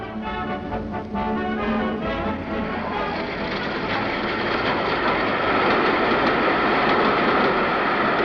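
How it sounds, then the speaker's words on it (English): A train rolls along the Burma-Thailand Railway near the River Kwai, a loud continuous rumble with a rhythmic clatter and a brief horn-like tone early on, building slightly toward the end. "Today, even the railway engines for whom they worked and died are preserved"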